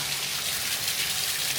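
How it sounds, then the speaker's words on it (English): Water from a moon-shaped waterfall fixture pours steadily into a moon-shaped bathtub in an inn's themed room, a continuous close splashing rush with no pauses. "There is a moon waterfall here into the moon tub."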